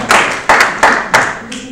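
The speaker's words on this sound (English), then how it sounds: "just give yourselves a round of applause." Business owners at a marketing seminar clap for themselves, heard as a handful of distinct, evenly spaced hand claps, close and fairly loud, rather than a continuous roar.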